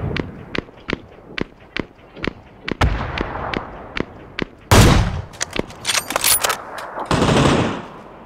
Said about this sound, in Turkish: Bomba attı.